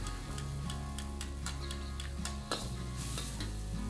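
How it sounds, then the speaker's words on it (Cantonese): Aromatics for a Cantonese stuffed-treasures dish are stir-fried in a wok, with a continuous close sizzle broken by repeated ticking spatula scrapes and one louder clank, under steady background music. "呢個過程咧，記住要爆香佢喎。"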